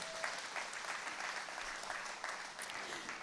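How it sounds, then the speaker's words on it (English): Steady applause from a crowd at a women's political wing International Women's Day celebration, even and sustained throughout, moderately distant with no voices standing out. "Let's give her a round of applause."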